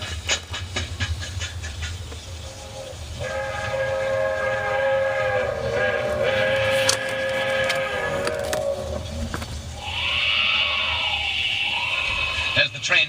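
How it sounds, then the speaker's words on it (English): A fast train approaches with rumbling wheels and a long, loud steam whistle blast, followed by a second wavering whistle, while people speak over it. "There's the train. Traveling fast, all right."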